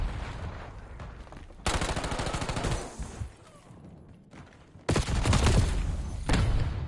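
Shotgun fire and rapid gunfire in a team-based multiplayer shooter game, dense loud bursts of blasts in two long volleys separated by a quieter stretch, close and harsh.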